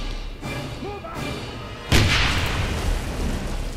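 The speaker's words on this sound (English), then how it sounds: "Oh god, grenade." A grenade goes off in the 2009 Wolfenstein video game with a sudden loud blast and a rumbling, hissing decay, after a quieter stretch of game ambience with faint tonal chirps.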